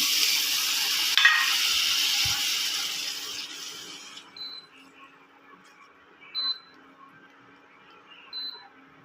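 Spice masala frying in a pan hisses loudly, and a splash of water is stirred in. The sizzle fades after a few seconds, leaving faint crackles with a few short high beeps.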